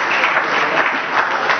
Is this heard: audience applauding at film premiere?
yes